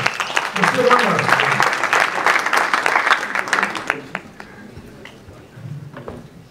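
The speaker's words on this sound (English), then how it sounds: "Please give a round of applause for Justin Wanda." An audience at a science and policy conference in Kenya claps loudly for several seconds, the dense applause thinning to scattered claps and then fading as a voice begins.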